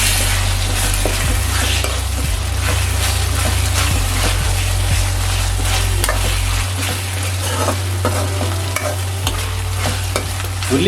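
Onions fry loudly in a pan while a utensil stirs them continuously, a dense steady sizzle with scraping strokes, close and alone with no talking, for a spicy red chicken liver dish.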